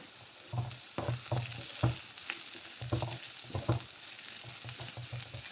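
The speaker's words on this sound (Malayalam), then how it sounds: "ഒന്ന് ഇളക്കി കൊടുക്കാം." Shredded cabbage with grated coconut is stirred in a hot pan, giving soft sizzling under a string of distinct spoon scrapes and knocks in uneven bursts, close and moderately quiet.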